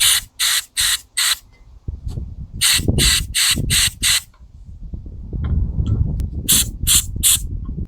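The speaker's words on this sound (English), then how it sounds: "And we'll spray up the emulsion tube." Short sharp hisses of carb cleaner sprayed up the emulsion tube of a Tecumseh Snow King carburetor come in quick clusters of three to five, close and loud, with handling clatter and low rumbling noise between them.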